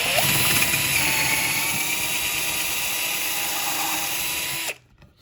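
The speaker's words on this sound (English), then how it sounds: "I'm gonna try and slowly drill through here so it doesn't break through the other side." An electric drill whines at a steady high pitch for several seconds, close and loud, drilling slowly through the wood of an old dresser mirror, then cuts off abruptly into near silence.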